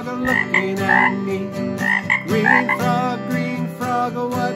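Repeated frog croaks sound over a tonal, musical backing, a cartoonish run of short, bouncy calls at a steady pace.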